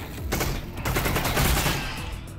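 Sustained gunfire in Half-Life: Alyx played in VR while shooting antlions, a loud, dense volley of rapid shots filling the whole stretch.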